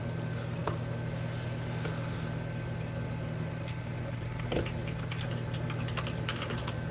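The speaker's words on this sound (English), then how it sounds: "my keyboard is right next to my microphone, so I'm typing" Typing on a computer keyboard set right beside the microphone gives scattered close clicks and taps over a steady low hum.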